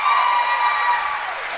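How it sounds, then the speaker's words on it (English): A debate audience at SMU breaks into applause, a bright, dense burst of clapping that starts at full strength and fades slightly toward the end. "Please, audience, please. No applause."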